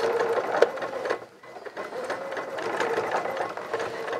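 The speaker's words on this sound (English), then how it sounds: "it's just going around and hemming all our sleeves and leg holes" Sewing machine hemming the sleeves and leg holes of a child's coverall, a steady close whirring and rattling stitch run with a short pause partway through.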